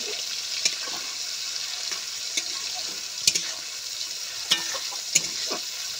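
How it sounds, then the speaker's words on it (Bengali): Prawns fry in plenty of hot oil and get stirred, producing a constant close hiss with occasional sharp pops and spoon clicks spaced every second or so, without talk. "একটু ভালোভাবে নেড়ে দিচ্ছি"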